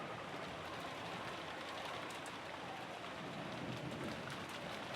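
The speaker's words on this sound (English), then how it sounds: "it was very quiet, filled only with the sound of the rain" Steady, even rainfall in the visual novel game Umineko, a constant hiss of rain on surfaces with no pauses or voices.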